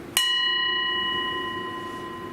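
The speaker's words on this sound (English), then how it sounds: "sound of the bell." A meditation bell is struck once, sounding a clear, bright ring that lingers and slowly fades over two seconds in quiet surroundings.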